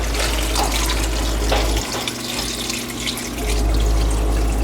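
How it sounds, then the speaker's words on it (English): Tap water runs steadily into a pot of chopped apples to cover them, a loud, close, continuous splashing gush that dips briefly midway and then resumes. "It says to cover them with water until it covers the apples."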